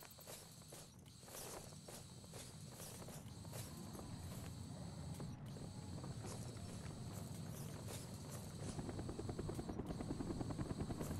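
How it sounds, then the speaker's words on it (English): Helicopter in the Call of Duty: Black Ops video game, a continuous rapid rotor chop that grows steadily louder and closer, with faint clicks and footsteps mixed in and no talk. "We're taking heavy fire from the helicopters."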